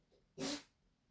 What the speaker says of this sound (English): And my daughter just sneezed